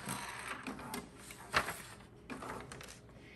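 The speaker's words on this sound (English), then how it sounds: "So it should be printing." A printer runs off a custom quilt label on fabric, giving a steady mechanical whir with soft clicks and a sharper clack partway through, close by and fairly quiet, with no talk.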